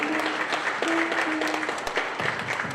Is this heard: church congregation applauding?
yes